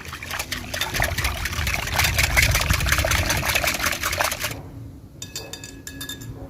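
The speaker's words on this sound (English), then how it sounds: "I'll then add in 2 tablespoons of cooking oil and whisk again." Pancake batter and cooking oil whisked in a bowl: rapid, rhythmic clinking strokes with a wet slosh, close and fairly loud. After a short pause come lighter, sparser taps.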